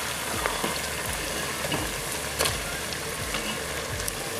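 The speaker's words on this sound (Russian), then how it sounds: "Лук обжарился." Onions frying in a kazan for Uzbek plov produce a continuous, soft crackling sizzle, scattered with small pops and spits, heard alone at low volume for the whole stretch.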